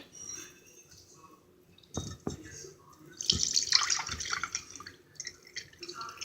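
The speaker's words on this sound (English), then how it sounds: "I'm going to take and drain it out." Marinated artichokes being drained, with quiet dripping, a few knocks, then a louder trickle and splash of liquid running out, close and alone.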